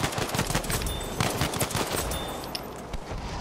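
Rapid automatic gunfire from a Battlefield V match played on PS4, dense bursts of machine-gun shots rattling continuously, close and loud, with scattered sharper cracks.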